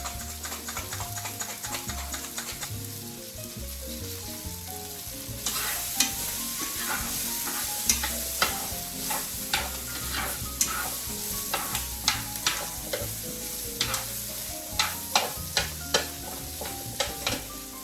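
Onions and vegetables sizzle in a pot for a one-pot Tuscan pork loin meal, a steady frying hiss broken by regular sharp clicks and scrapes of a spoon stirring close by.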